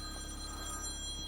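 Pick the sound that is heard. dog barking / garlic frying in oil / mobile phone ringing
mobile phone ringing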